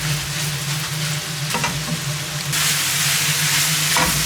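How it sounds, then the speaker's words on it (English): Beef mince and pancetta fry loudly in a pan for a ragu, a thick steady sizzle that swells partway through with bursts of scraping as the meat is stirred. "Here we have the mince cooking nicely with the pancetta"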